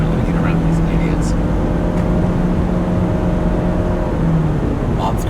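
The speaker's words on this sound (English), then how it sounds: "You can tell I'm very distracted by these cars." Continuous hum and roar of car traffic heard from inside a moving car, with a steady engine drone and passing vehicles, loud and unbroken throughout.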